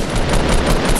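Dense rapid gunfire from a video game fills the whole moment, a loud continuous burst of overlapping shots with no pause.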